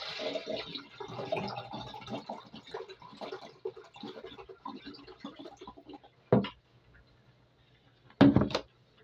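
Water poured into a cooking pot on a stove while making red sauce over rice: a steady, fairly loud pouring rush for several seconds, then two short, sharp splashing bursts after a pause.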